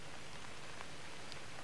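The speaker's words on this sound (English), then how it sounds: "The rain in Spain that day was relentless" Heavy, relentless rain falling at the 1992 Spanish Grand Prix, a dense steady hiss of drops with scattered close splashes, continuous and alone with no voices.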